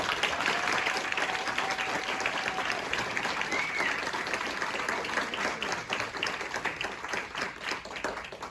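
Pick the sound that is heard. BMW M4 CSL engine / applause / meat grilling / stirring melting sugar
applause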